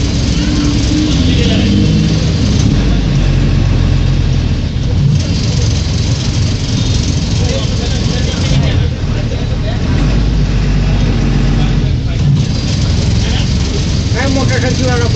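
Vehicles stuck in traffic during heavy rain in Vasai, a loud, continuous drone of idling engines mixed with rain noise, with people talking over it.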